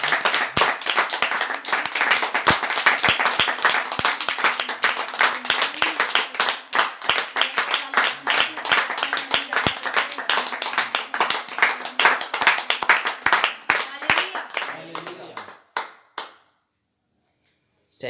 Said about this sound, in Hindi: आइए हम पिता पुत्र पवित्र आत्मा की मौजूदगी के लिए जोरदार ताली बजाते हैं स्वागत करते हैं।